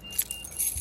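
Keys jangle briefly beside a 2019-2023 Nissan Altima, a quick, faint metallic rattle lasting under a second.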